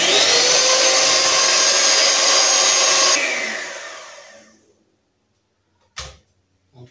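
Electric mixer whirring through cake batter made by the rubbed-in method, a loud steady buzz lasting about three seconds that winds down to silence, followed by a single sharp knock.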